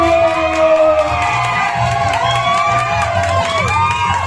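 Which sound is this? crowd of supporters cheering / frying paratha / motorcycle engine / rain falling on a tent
crowd of supporters cheering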